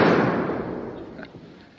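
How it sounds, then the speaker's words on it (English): Single loud close gunshot blast at flying pheasants in a James Bond film, its sharp crack decaying into a long rumbling echo. "Bond follows the pheasants flying and shoots at the birds, but apparently misses."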